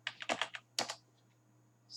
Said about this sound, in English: now I'll try to type a command called Java.